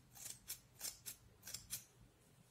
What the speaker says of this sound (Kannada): ಅದನ್ನು ನಾನು ಇದೇ ಸೈಜಲ್ಲಿ ಕಟ್ ಮಾಡ್ತಾ ಇದ್ದೀನಿ